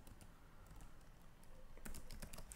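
Typing on a computer keyboard while writing Python code, with steady soft key clicks throughout and a denser, louder burst of keystrokes near the end.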